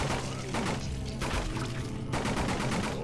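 Submachine gun fire in the Half-Life 2 mod Nightmare House 2, loud bursts of rapid automatic shots in several close volleys with short breaks between them.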